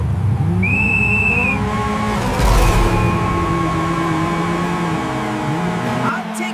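Cartoon motorcycles race with loud, continuous engine whine and tire squeals, with a sharp rise near the middle and a sudden cut near the end, under animated character voices.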